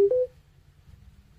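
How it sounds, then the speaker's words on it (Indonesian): A transparent mini Bluetooth speaker plays its power-on notification, a short clear two-note electronic chime at the start, then fades into faint low hum. "ketika masing-masing speaker dinyalakan untuk notif suaranya berbeda"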